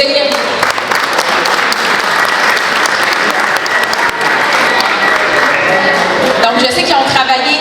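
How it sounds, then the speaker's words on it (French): Loud, sustained applause from a large audience at a cultural day gathering in Ottawa-Gatineau fills the whole stretch, steady and dense, with a voice faintly audible under it near the end. "Je pense qu'on peut les applaudir."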